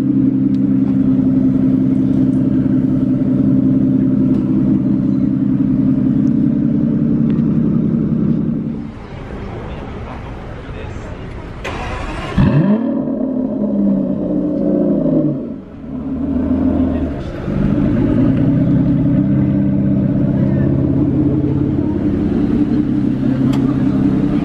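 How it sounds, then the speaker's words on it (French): Sports car engine idling loudly nearby at Monaco, then a sharp burst as the exhaust valves snap open into a deep roaring rev, dropping back to a steady rumbling idle with a few more throttle blips. "Vous avez vu, les valves se sont ouvertes d'un coup là."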